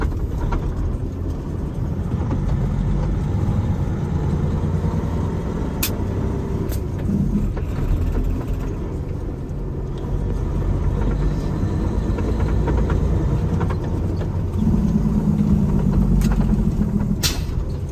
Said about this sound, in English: just so you guys can kind of see and hear this truck run from the inside and see how it shifts